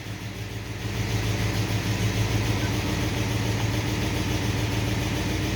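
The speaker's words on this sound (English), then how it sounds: "Choke's on, and she's running." Car engine idling with the choke on and an exhaust leak on the passenger side, a steady close rumble that grows louder after about a second and then holds even.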